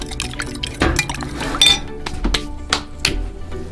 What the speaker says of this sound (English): Break those eggs open. You could use a whisk, but I guess I'm more of a fork guy.